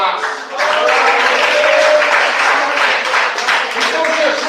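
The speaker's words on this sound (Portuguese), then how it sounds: "Me bate palmas." A church congregation applauds during a service on angel worship, sustained dense clapping with voices and cheering blended in, fairly loud and continuous.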